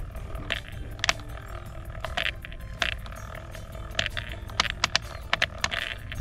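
A broken Pentair pool valve actuator gives off irregular sharp clicks and clacks over a low background hum, some clicks louder and closer together near the end.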